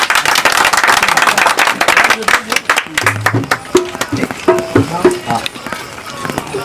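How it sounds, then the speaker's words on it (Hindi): A live Maithili comedy party audience breaks into loud, dense clapping for Kamal Bhaiya that fades after a couple of seconds, giving way to someone speaking over scattered, thinning claps. "कमल भैया के एक बार जोरदार ताली बजा दीजिए।"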